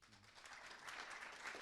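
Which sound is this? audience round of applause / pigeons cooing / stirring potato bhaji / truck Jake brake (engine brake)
audience round of applause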